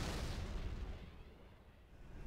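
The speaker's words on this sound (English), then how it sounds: "Continue firing. I want maximum human casualties before we send in the infantry." Muffled gunfire and explosions from a Halo machinima battle rumble in a faint, deep booming wash that fades over a couple of seconds.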